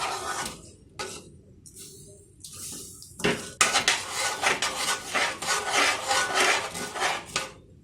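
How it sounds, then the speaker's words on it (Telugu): A spoon scrapes and stirs wheat flour, jaggery and water batter in a vessel, starting with a few separate strokes and then settling into quick, continuous close scraping. "ఇప్పుడు అదే గ్లాస్తో రెండు గ్లాసులు నీళ్లు వేశాను ఉండలు లేకుండా బాగా తిప్పుకోవాలి"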